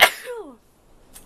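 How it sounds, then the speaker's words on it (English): A single sharp sneeze bursts out close up, followed by a brief falling vocal tail and then quiet. "I need a sneeze."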